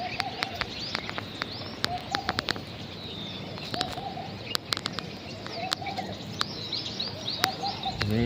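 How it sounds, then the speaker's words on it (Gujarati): Sparrows feeding on a farm field at sunrise give repeated short chirps and twitters, some close and some farther off, over a steady outdoor background broken by sharp clicks and knocks, with no talking. "એવા ચકલિયું ખાય છે ચકલિયું ખાય છે"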